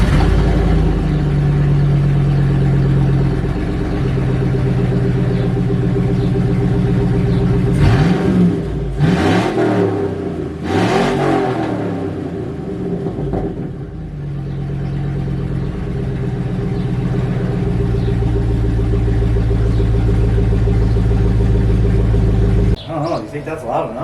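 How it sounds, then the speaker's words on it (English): A car engine idling and revving with exhaust passing only through the catalytic converter and no muffler, a loud steady drone with a few sharp rev swells in the middle, with people talking nearby. "Now we'll start it up, and the only thing that the exhaust is running through is just the cat."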